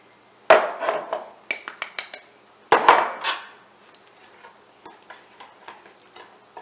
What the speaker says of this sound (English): I like to mix my cornmeal and my flour